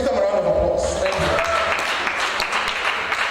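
A seminar audience claps together, with the applause swelling after a speaker's voice and then carrying on as a steady, fairly loud patter to the end.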